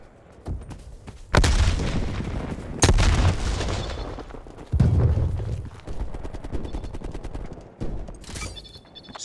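Explosions and gunfire in the Call of Duty Black Ops Cold War video game, with a frag grenade thrown during a pistols-only match: several loud, sharp booming bursts a few seconds apart over continuous battle noise.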